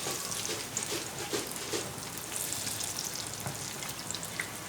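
Bread snacks fry in oil in a pan, a soft continuous sizzle with small crackles and pops at low level, heard close and without talking.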